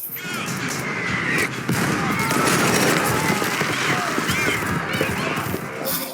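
Rapid sniper gunfire in the TV series Alice in Borderland, dense cracks and bangs running steadily through the whole stretch and mixed with a busy, loud action soundtrack.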